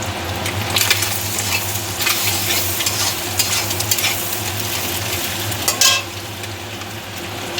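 Pasta-sauce mixture with salt and turmeric being stirred in a frying pan, a steady close sizzle under repeated spoon scrapes and clatter, with no talking.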